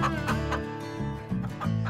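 Domestic hens cluck in a run of short, close, repeated calls, fairly clear with no talking over them.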